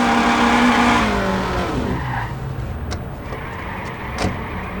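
A car in the game Watch Dogs skids with a falling tire squeal and engine whine, then settles into road rumble with a few sharp ticks and bumps, loud and close.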